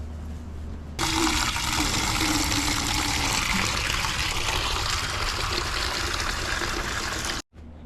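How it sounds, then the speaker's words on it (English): Water hisses steadily from a hose nozzle during HVAC unit servicing, a broad continuous spray that runs loud and unbroken for several seconds before cutting off abruptly near the end. "There's the water nozzle."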